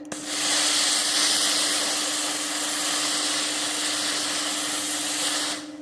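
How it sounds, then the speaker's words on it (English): A steam iron hovering over fabric lets out one long, loud, steady hiss of pulsed steam that runs for several seconds and then cuts off, with no speech. "my iron here has a nice pulse of steam, and I just hover above it and push the steam"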